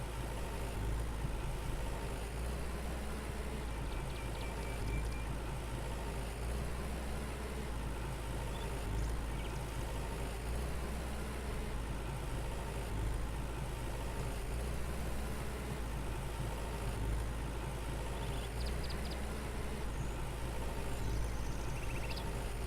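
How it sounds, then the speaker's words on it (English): A tractor engine from the Farmer's Dynasty farming game runs while driving over a field, a constant low idling drone at moderate level with faint periodic clicks and no speech. "They can't stop this tractor."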